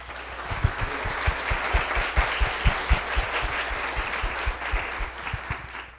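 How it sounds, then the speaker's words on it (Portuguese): Audience at a lecture on electric vehicles applauding a speaker, sustained clapping from a crowd with sharp, distinct claps from nearby hands punctuating the steady wash. "Plínio Cabral Júnior, uma salva de palmas."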